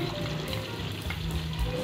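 Two large onions hit hot ghee in a pan and burst into a dense, crackling sizzle. The frying is close and steady for the short moment, with no voices.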